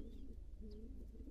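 A young pigeon coos softly in a low, wavering murmur, close by and steady, over a constant low background hum.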